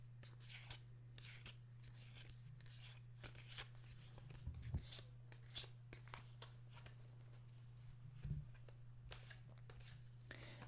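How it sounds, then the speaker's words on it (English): Quiet, close riffling and flicking of playing cards being shuffled, in short irregular bursts over a low steady electrical hum. "So let's listen to the shuffling sounds a little bit."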